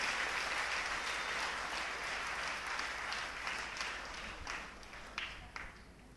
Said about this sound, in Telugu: కరతాళులతో చప్పట్లు కొడుతూ దేవుని స్తుతిద్దాం